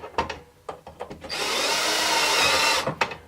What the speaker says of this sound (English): I'm going to use the drill because I lack patience.